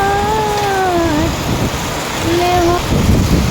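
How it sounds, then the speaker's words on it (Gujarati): A voice sings a melody over a soft, constant wash of drizzling rain on a village farm. The rain hiss continues faintly after the singing stops. "મેઘ વર્ષે આજ જરમર"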